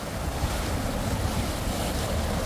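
Water rushing down a tube slide at a water park, a steady, loud, broadband roar with wind buffeting and no pauses.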